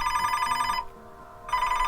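A telephone rings at a campsite in a redwood forest, its steady electronic trill stopping briefly and then resuming, loud and close over a faint low background hum.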